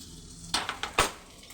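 A few quick scrapes and a sharp knock of a utensil in a pan of frying mourala fish and potatoes, over a faint low sizzle, close and brief.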